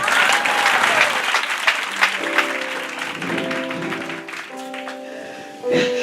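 A church congregation claps steadily to acclaim Jesus during a sermon, the applause full and close, while sustained tonal voices or music rise beneath it in the second half.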